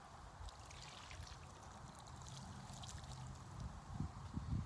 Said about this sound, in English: I'm just going to dump that water out in here